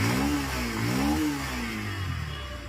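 A Bajaj Pulsar motorcycle engine running and revving, its pitch rising and falling through a couple of throttle blips before settling, close and fairly loud.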